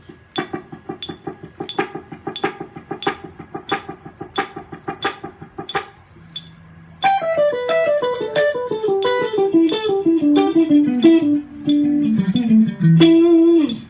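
A guitar plays quick, even sixteenth-note runs, first as short plucked notes, then a louder, sustained descending pentatonic sequence.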